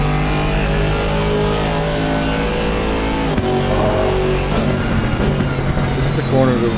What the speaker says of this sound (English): That Merc engine sure does sound pretty good though